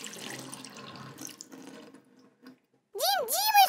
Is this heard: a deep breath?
no